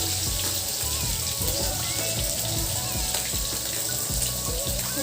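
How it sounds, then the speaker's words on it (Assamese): Water poured from a glass into a pressure cooker holding chopped elephant foot yam, a steady splashing pour that runs throughout at moderate, close range, with clinks of kitchen utensils mixed in. "তাতে 1 গিলাচ পানী দি দিছোঁ"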